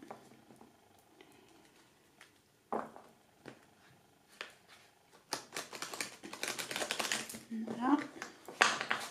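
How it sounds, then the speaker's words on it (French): Tarot cards are shuffled in soft taps at first, then in a denser run of quick papery riffles and flicks near the end, with a voice talking at points. "je ne vais pas battre les cartes pendant 2 heures."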